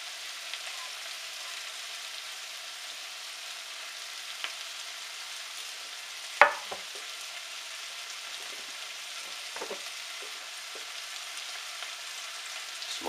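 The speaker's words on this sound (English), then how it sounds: "The pepper's been cooking for about 5 minutes." Peppers and onions frying in a pan for Spanish rice, a soft, even sizzle throughout with a single sharp clink of a utensil near the middle and a few faint scrapes.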